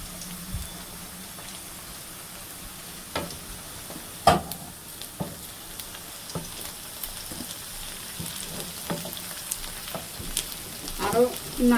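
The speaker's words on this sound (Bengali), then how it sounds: "পেঁয়াজ রসুন একে একে দিব" Onion and garlic fry in oil in a home kitchen while greens wait to be added, giving a low steady sizzle with occasional sharp spatula taps and stirring clicks.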